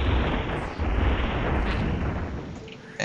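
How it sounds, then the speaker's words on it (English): Enemy ships in Space Pirates and Zombies pound the player's shields with a continuous, loud rumbling barrage of booming blasts and bursts, dense and unbroken. "And they are shooting up my shields."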